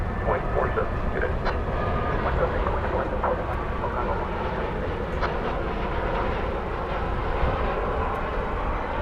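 Cathay Cargo 173 Heavy jet departing DFW Airport, a sustained low roar of engines that stays steady and loud, with scattered radio voices faintly mixed over it.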